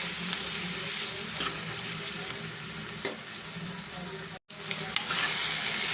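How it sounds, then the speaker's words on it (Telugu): Drumstick pieces sizzle in a pan as they are stirred with chilli powder and coriander powder, a dense continuous frying hiss with occasional scrapes, briefly cutting out near the end. "ములక్కాడలకి కారము, ధనియాల పొడి, మసాలా పట్టేంత వరకు మనం మంచిగా కలుపుకుందాం"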